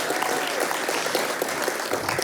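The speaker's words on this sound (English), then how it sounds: "Please give a round of applause to our next speaker" Conference audience at BSidesSF 2024 applauding as the next speaker takes the stage: a steady wash of many hands clapping, close and fairly loud, sustained evenly throughout without talk.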